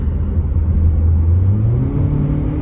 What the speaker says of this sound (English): It has a hole in the flex pipe, so when you like give it gas, it sounds kind of raspy